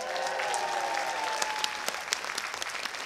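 Concert audience applauding in a hall, a broad sustained wash of many hands with a few sharp nearby claps standing out, while a faint held tone lingers early on.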